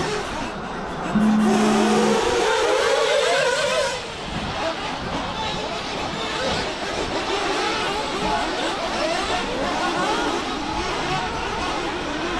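Nitro RC buggies race on an outdoor track at a nitro RC competition. Small engines whine and buzz continuously, with a rising tone early on over a constant background hum of the event.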